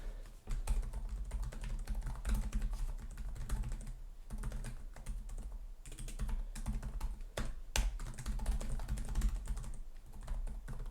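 Quick typing on the keyboard of an HP OmniBook 5 Snapdragon laptop from 2025, a steady run of close, soft key clicks with occasional sharper taps, heard alone without any talk.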